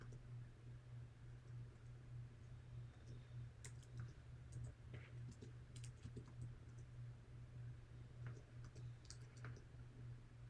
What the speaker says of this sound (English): And I'm going to type his name.